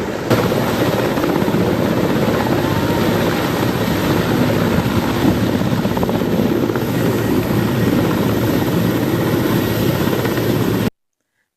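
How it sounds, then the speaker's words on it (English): Military helicopter with green-spotted camouflage landing slowly at a primary school field, its loud, steady rotor and engine roar filling the air close by for about eleven seconds with no voices. "The slow landing green-spotted helicopter carrying the body of General Elly Tumwine touched down at exactly 8 minutes past 5 p.m. at Lukoma Model Primary School"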